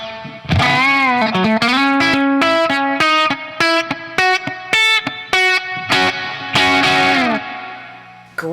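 An electric guitar through a Bad Cat Jet Black amp with a compressor rings out a clean, sustained melodic phrase of separate bright notes and short chords, loud and alone.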